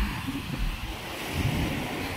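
Sea waves washing around a small boat out on the water, a continuous broad rushing wash mixed with wind buffeting the microphone, no speech.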